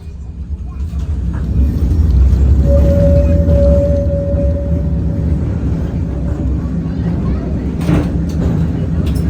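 A heritage tram on the Dockline in New Zealand rounds a corner into the Gaunt Street stop, giving a loud low rumble with a sustained high wheel squeal that rises midway and then fades under the running noise.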